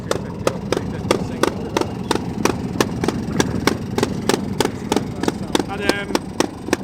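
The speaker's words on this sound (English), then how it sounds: "Super little BSA trials bike." A small BSA trials motorcycle idles at an outdoor show on a sunny day, its single engine putting out a steady, even train of sharp thumping beats over a low rumble, with crowd murmur faintly behind.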